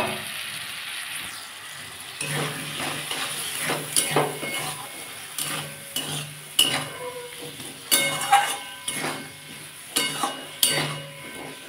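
Spiced ridge gourd and potato with bori sizzle in a pan while a spoon scrapes and stirs, giving repeated close clinks and scrapes over a steady frying hiss, with no talking.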